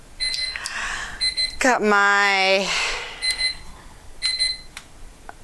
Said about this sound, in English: Alrighty, there's the timer.